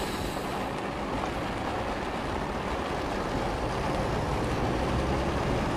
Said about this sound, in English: Put the truck in gear.